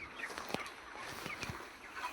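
Chickens given their evening medicine cluck softly in short, scattered calls, a quiet flock murmur at moderate distance with a few sharper notes standing out.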